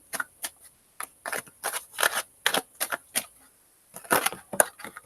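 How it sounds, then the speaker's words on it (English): Tarot cards riffle and snap in short, uneven bursts of shuffling, close and crisp, with brief pauses between handfuls. "this one doesn't want to shuffle like I want it to shuffle"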